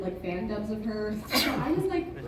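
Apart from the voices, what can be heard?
sneeze during a convention panel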